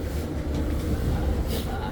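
Train arriving at a station in the Czech Republic, a low steady rumble with a hiss of brakes, people talking over it.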